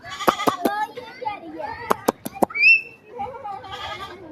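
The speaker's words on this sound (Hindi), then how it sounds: "इधर भी बकरा है" Goats bleating outdoors in Kashmir, one brief wavering call rising among excited children's voices and sharp claps, with people talking throughout.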